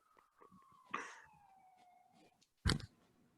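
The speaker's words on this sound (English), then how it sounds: "There's a siren going on in the background" An emergency siren passes outside on a New York street, one wailing tone gliding slowly downward at moderate distance in the background, followed by a brief loud thump near the end.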